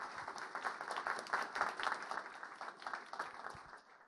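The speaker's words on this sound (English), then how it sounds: "Another round of applause for you, please, Bradham." Steady conference audience applause after a talk, many hands clapping together in a dense, sustained patter that fades slightly toward the end.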